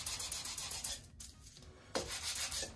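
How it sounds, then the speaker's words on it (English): A sanding bar rubs back and forth over a balsa wood flap for a .60 size P-40E Warhawk model, giving steady close scratchy strokes, a brief pause in the middle, then more strokes. "Just let the sanding bar do the work"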